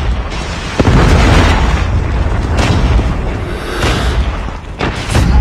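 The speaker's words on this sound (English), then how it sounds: "Be advised, hostile predator missile inbound." A Call of Duty Mobile predator missile explodes with a loud, close, roaring blast that rumbles on for several seconds, swelling and fading with scattered crackling debris.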